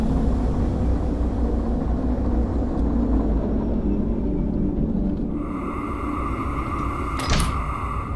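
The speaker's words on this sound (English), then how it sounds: "we're just going to let the locomotive coast here a little bit" A locomotive coasting in the train game Derail Valley gives a steady low rumble throughout, with a tonal whine joining partway through and a short clank near the end.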